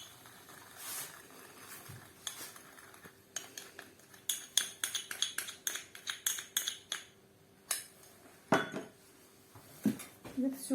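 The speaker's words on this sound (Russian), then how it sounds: "Это все будем взбивать." Chak-chak dough ingredients, including salt, baking soda and vinegar, being whisked in a bowl: steady, quick metallic clinks and taps of a whisk against the bowl, moderately close, over faint background noise.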